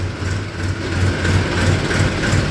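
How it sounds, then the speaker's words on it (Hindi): A tractor engine rumbling steadily at close range, a low continuous drone with a slight pulsing throb. "थोड़ी सी ट्रैक्टर की आवाज़ से"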